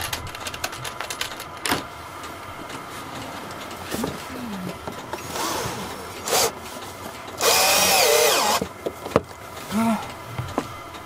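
A power drill drives screws into a solar panel mounting, with several short whirring bursts separated by pauses, the longest near the end, heard close and loud amid workshop clatter.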